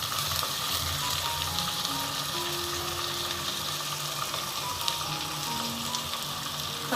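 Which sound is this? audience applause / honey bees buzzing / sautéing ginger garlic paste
sautéing ginger garlic paste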